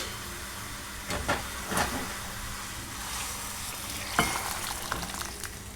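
Hot oil tempering for pepper rasam, a South Indian miryala chaaru, sizzling and hissing steadily with a few sharper bursts and crackles, close and moderately quiet, with no talking.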